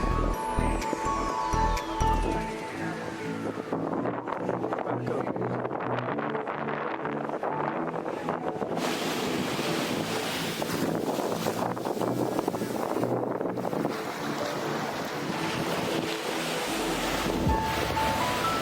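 A boat engine rumbles steadily as the vessel approaches the beach at Klein Curacao, with wind buffeting the microphone and surf washing around it throughout.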